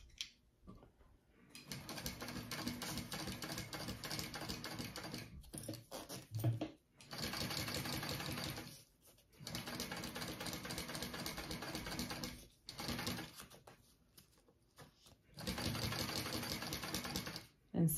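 A sewing machine runs straight stitches along a backpack seam in several long, steady bursts of rapid mechanical whirring separated by brief pauses, heard close and alone.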